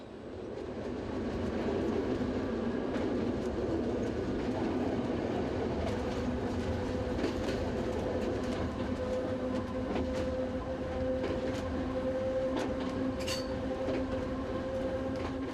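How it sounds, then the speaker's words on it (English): The Soller Railway train runs through one of its Mallorca tunnels between Bunyola and Soller, a steady enclosed rumble of wheels on rails with faint clicks and a thin squeal now and then. "the train enters the first of 13 tunnels that lie between here and Soller"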